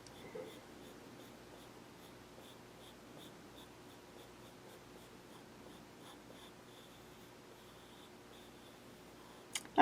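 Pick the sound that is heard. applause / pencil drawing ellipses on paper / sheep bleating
pencil drawing ellipses on paper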